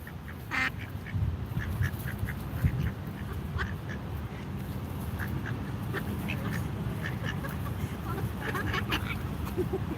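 Ducks quack intermittently among other waterfowl outdoors beside a protest in Washington DC, their short calls scattered over a steady low rumble of crowd and ambient noise.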